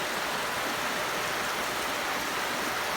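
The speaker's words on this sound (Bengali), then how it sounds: "আবার 12টা থেকে শুরু হয়েছে ভারী বৃষ্টি।" Heavy rain falls steadily in Dinajpur, a dense, even hiss of downpour on surfaces, loud and continuous throughout with no voices.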